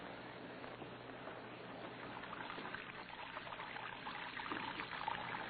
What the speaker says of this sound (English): watching water pouring from his wash basin to the cell floor